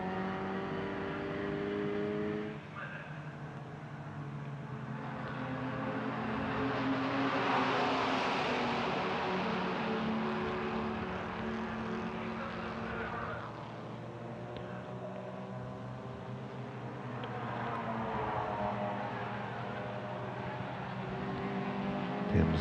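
A Porsche 928 racing car on the Estoril circuit: a continuous engine drone swells as the car draws nearer and passes, then settles into a sustained, moderately distant roar.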